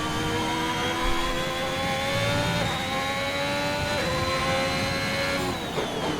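A Ferrari race car is driven on a track. Its engine note climbs steadily through the gears with a couple of brief dips in pitch, heard at a fairly even loudness, with no voices.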